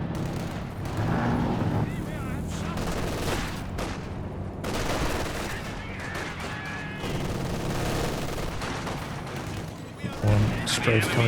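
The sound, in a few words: strafing run gunfire in video game Company of Heroes 2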